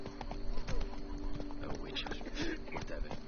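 Roach, the horse in the video game The Witcher 3, gallops with steady clip-clopping hoofbeats under a bed of game music, with a voice faintly present.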